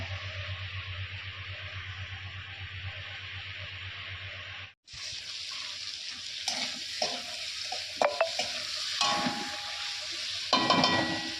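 Potatoes fry in a pan in a home kitchen, first as a dense, steady sizzle, then after a brief cut as quieter sizzling broken by scraping stir strokes and clinks.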